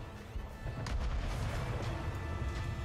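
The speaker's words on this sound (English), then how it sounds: "Fire! All cannons!" Ships' cannons fire in a naval battle in Anno 1800, a series of quick, muffled booms and crashes packed close together, fairly quiet and distant in the mix.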